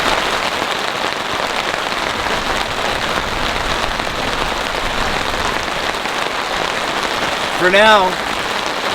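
Heavy rain pounding down on a campsite during an intense storm, a dense continuous roar of drops drumming on surfaces close by, with a brief spoken phrase near the end.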